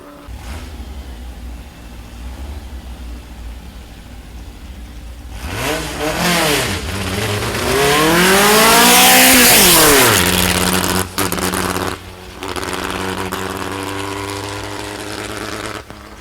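Air-cooled VW drag cars race down a dragway. Engines rev and roar hard past the listener, rising to a loud peak and then fading into distant engine noise.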